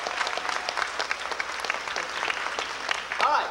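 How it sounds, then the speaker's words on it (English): An audience at Disneyland in 1989 claps in a sustained burst of applause, busy and even, with a brief voice or cheer rising near the end. "How about a big round of applause for our first group of actors and"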